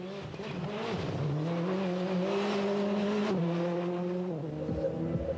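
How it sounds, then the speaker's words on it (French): A rally car brakes hard from close to 200 km/h on a stage at Spa. A loud, steady engine drone runs throughout, with pitch shifts as it slows, and faint tyre noise near the end. "sur ce gros freinage, à près de 200 km/h, David arrive trop vite"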